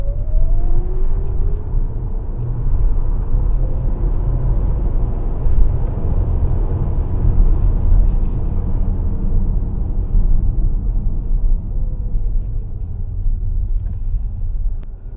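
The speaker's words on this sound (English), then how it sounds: "we'll give it a good squirt of acceleration there" A Tesla Model S 90D electric car accelerates with a faint rising motor whine over a constant low road rumble, heard from inside the cabin.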